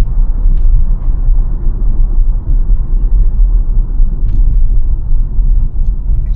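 Steady low road rumble from inside a Tesla running Full Self Driving Supervised 12.3.3 while moving slowly through city traffic, loud and continuous with no talking.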